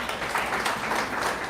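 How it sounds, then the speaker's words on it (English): A live-streamed wellness gathering responds with a short burst of audience clapping, a busy wash of hands at moderate level with no talk over it. "Clap for me."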